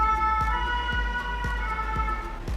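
An ambulance siren wails steadily in the background, a sustained tonal sound heard through a low, constant hum with faint regular clicks.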